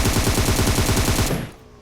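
Rapid automatic gunfire in PUBG Mobile knocking an enemy, a fast even burst of loud shots that cuts off near the end, with no voices.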